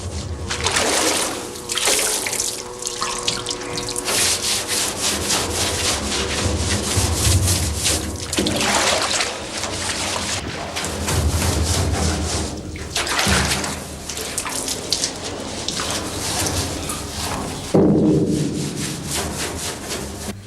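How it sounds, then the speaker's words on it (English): Large copper-lined kettle for cooking kraut syrup being scrubbed with a brush and water, continuous rhythmic scraping and rubbing strokes with splashy wet texture, close and fairly loud throughout. "The kettle is cleaned with water and a brush."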